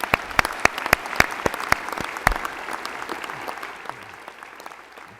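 At an honors convocation, the audience applauds new Honor Society initiates in a College of Education: loud, distinct claps from a nearby clapper ring out over a steady crowd applause that fades toward the end.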